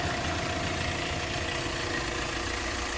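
A 2019 Hyundai Creta 1.4 S diesel engine idles steadily, a constant low rumble with a faint knocking texture and no voices.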